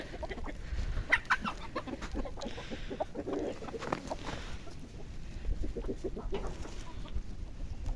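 Several wet chickens foraging in a vegetable garden in winter cluck and murmur steadily close by, a continuous soft farmyard chatter with occasional sharper calls.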